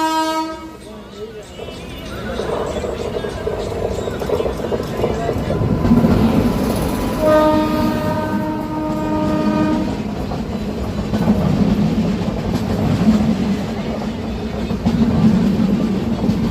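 The Alappuzha–Dhanbad Bokaro Express rumbles along the rails, and its horn blasts twice, once at the start and again in a longer blare midway, over the steady running noise.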